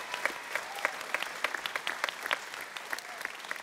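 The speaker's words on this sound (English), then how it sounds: "Can we have a big round of applause for all of our teachers?" Audience at a school musical applauding the teachers, dense steady clapping from many hands throughout, with no talk over it.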